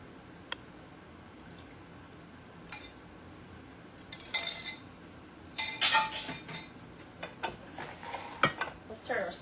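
Soft clinks and scrapes of a utensil against a dish while eggs and milk are stirred into an eggplant casserole, with intermittent taps and wet squishing sounds over a quiet kitchen background.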